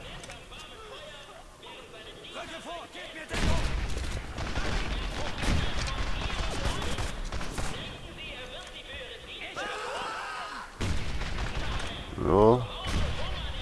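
Gunfire in the war video game Medal of Honor: Airborne, with bursts of shots and impacts scattered across the clip, loud and irregular, under German-speaking voices.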